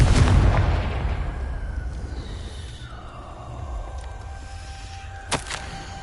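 A Confringo spell from the wizarding video game Hogwarts Legacy blasts off with a loud opening boom that decays into a rumbling tail, followed later by a brief sharp pop, with no one talking.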